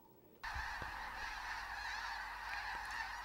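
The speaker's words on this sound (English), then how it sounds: "Overhead, snow geese stirred by a predator take to the sky" A flock of snow geese honks loudly and continuously overhead as they take flight at Bosque del Apache Wildlife Refuge in New Mexico, a dense chorus of overlapping nasal calls that starts abruptly and carries on steadily.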